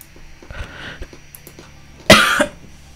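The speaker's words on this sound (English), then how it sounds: "It's just me coughing by random." One person gives a single loud, harsh cough, heard close and alone after a stretch of faint room noise.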